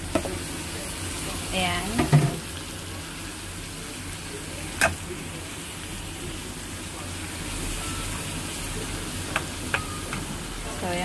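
Ground beef hits a hot pan and is sautéed for macaroni lasagne, giving a steady close sizzle with scraping stir strokes and a few sharp clinks, while someone talks briefly.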